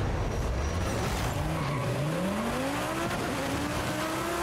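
A McLaren roars through a street race near Osaka Seaport in Forza Horizon 5, its engine revving loudly and climbing in pitch through the gears, with a steady rushing drone and no talk.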